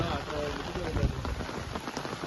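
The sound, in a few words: rain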